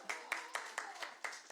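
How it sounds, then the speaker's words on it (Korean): Sparse, faint rhythmic clapping from a small church congregation at a Sunday service, about six evenly spaced claps in a second and a half. "우리 지수자매에게 힘찬 박수"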